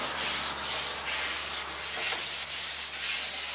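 Varnished wood on a boat being sanded by hand during a refit, steady rhythmic rubbing strokes with brief pauses, close and continuous, no talking.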